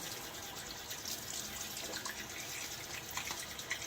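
Tap water running steadily into a sink while a razor is rinsed during a wet shave, a soft, continuous hissing splash with faint drips, fairly quiet and heard with no talking.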